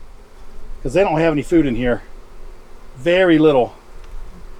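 Honey bees hum in an open hive during a Georgia spring flow, a low steady buzz running underneath a man's close, intermittent speech.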